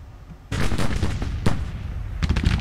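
Civil War artillery batteries in the Grand Tactician strategy game fire in a sudden loud boom, followed by rolling blasts and a second cannon report near the end.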